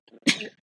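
A single short, sharp sneeze bursts out after a faint intake of breath, close and fairly loud in a quiet room.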